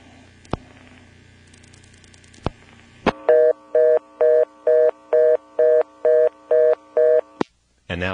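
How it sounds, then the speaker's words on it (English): Dialing 71 and a number on a 1977 post-pay coin phone on an NX1-E exchange in Vanceboro, North Carolina: a few sharp clicks, then a steady train of about eight evenly spaced tone bursts, clear and close, ending in a final click. "let's try dialing 71 followed by a working 244 number"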